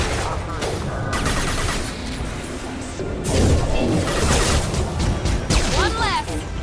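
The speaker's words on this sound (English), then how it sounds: "Firing a high-impact shot!" A high-impact shot in Mass Effect 2 combat amid rapid bursts of loud gunfire and crashing impacts, with dense battle noise and some game voices throughout.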